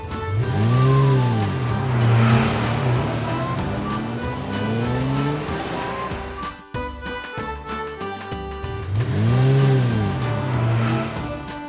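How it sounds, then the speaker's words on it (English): A limousine engine hums and revs steadily, loud and close, with sweeping rises and falls. A short break in the middle is followed by the same engine pass repeating. "Limousine."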